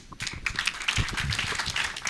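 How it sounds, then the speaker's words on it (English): Graduation audience at a labour mobility class ceremony clapping together, a dense, steady patter of many hands sustained for about two seconds at moderate loudness, filling the hall without any voices over it. "Let's clap for ourselves once more."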